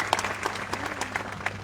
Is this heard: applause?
yes